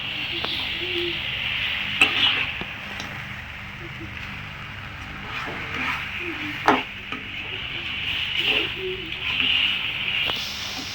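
Country chicken frying for a pepper fry in a pan, a steady soft sizzle with occasional stirring clatters and scrapes, heard close throughout without talk.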